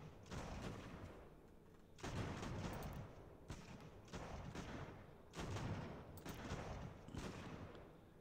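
Musket volleys crackle in the strategy game Ultimate General: American Revolution, with four rolling bursts of gunfire that sound faint and distant.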